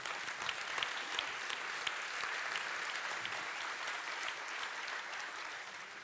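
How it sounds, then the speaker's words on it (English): A conference audience applauds a panel with dense, sustained clapping from many hands that holds steady for several seconds, with no speech over it. "Let's give them a round of applause."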